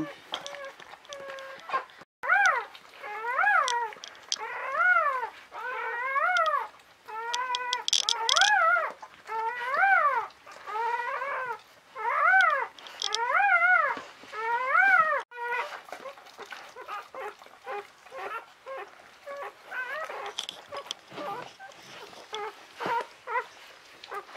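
Newborn Czechoslovakian wolfdog puppies whimper in a long series of rising and falling, high-pitched cries, about a dozen in steady rhythm, close and clear, then fading into quieter scattered squeaks and soft voices.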